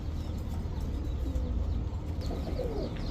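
Soft, low cooing of pigeons repeating close by, with faint chirps in the background and no talking.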